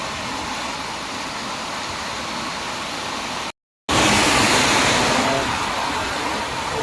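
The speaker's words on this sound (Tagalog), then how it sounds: "Lakas, sobrang lakas ng ulan." Heavy rain beats on a vehicle and is heard from inside as a dense, steady hiss of noise. After a brief cut it returns louder and stays constant, with no talking.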